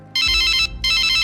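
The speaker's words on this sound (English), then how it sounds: "Mine's ringing too." A mobile phone ringtone sounds loud and close: two bright electronic bursts of tonal ringing with a short gap between them, heard alone with no talking.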